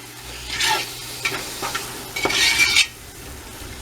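A spoon stirs a chicken and sausage sauce piquant with freshly added bell peppers in a pot. Several close scraping, sloshing strokes sound over a faint sizzle, then the stirring stops near the end, and nobody speaks.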